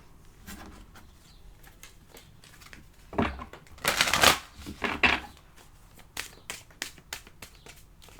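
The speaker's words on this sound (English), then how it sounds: "I'm shuffling in the background." Playing cards being shuffled close by in a quiet room, coming as soft riffling bursts and scattered flicks, with the loudest riffles grouped in the middle of the stretch and lighter taps spread throughout.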